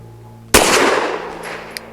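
A single sharp pistol shot from a Saricam S19 firing SIG Elite V Crown 124-grain ammunition cracks out loud and close, leaving a long ringing decay and a faint metallic clink near the end.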